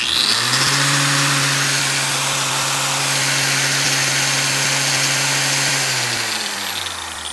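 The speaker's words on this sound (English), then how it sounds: "And this grinder, let's see how many watts it pulled." An electric grinder starts up, spins up quickly to a loud steady whine held for several seconds, then begins winding down near the end, heard close with no talking.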